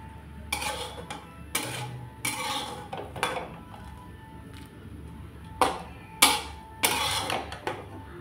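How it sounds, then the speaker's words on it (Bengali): Dried chillies, fried in oil, are crushed on a stone grinding slab, giving a run of coarse scraping and grinding strokes in uneven bursts, fairly close and with no talk. "আমি শিলপাটার মধ্যে মোটামুটি এইভাবে আমি মরিচটাকে গুঁড়া করে নিলাম"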